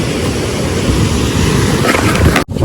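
Torrential rain at a fishing spot by a dam roars loud and continuous like a waterfall, ending with a short sharp cutout.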